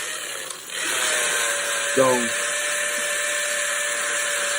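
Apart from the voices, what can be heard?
drill backing off a screw on a PVC conduit strap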